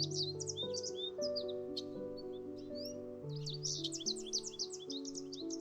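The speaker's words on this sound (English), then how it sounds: "water bubbling over rocks mingles with the distant calls of birds" Distant birds chirp and call along a nature trail, scattered high tweets over a soft bed of sustained tonal background sound, faint and continuous.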